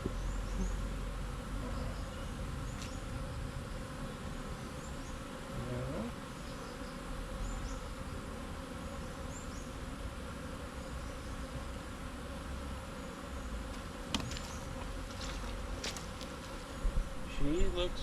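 Honeybees buzz steadily and close around a caged queen in a hive box in the Philippines, a dense continuous hum with a few louder passes near the end.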